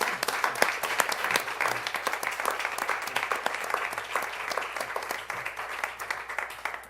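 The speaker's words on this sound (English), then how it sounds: "Give yourselves a round of applause." A small group applauding after a Tai Chi session, crisp individual claps overlapping in a lively, uneven patter that fades slightly toward the end.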